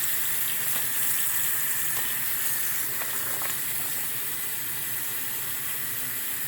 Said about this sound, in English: I'm going to fill this with water above the collards.